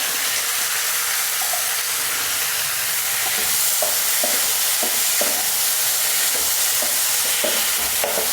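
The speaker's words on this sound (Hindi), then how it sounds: "तो इसको थोड़ा सा फ्राई कर लेंगे" Chopped tomatoes, salted, fry with ginger in a hot pan, giving a loud, continuous close sizzle with scattered spatula taps and scrapes as they are stirred.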